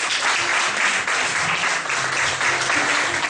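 A church congregation claps and cheers in acclamation of the Lord, a steady, dense wash of applause that holds at full strength throughout, with no one speaking over it.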